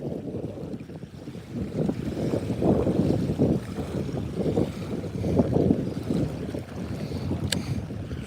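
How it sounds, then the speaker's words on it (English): Strong gusty wind blowing across a lake in Central Oregon during bass fishing, rushing in repeated surges with microphone buffeting and faint water movement, no voices. "it is really blowing today, for sure"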